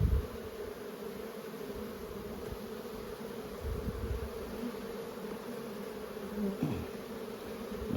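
Honey bees hum in an open hive brood box during an inspection, a continuous close, even buzzing with occasional louder passes of individual bees.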